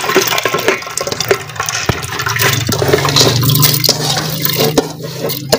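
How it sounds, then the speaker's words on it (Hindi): Water is poured steadily into a cooking pot of lentils in a home kitchen, making a loud, continuous splashing and gushing sound that fills the whole stretch without any talk. "अब डालते हैं जी इसमें पानी,"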